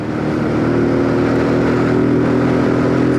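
Zontes G125 (ZT125 G1) 125cc motorcycle engine pulling steadily under throttle on the road, a continuous loud droning hum with a rising tone, close and alone.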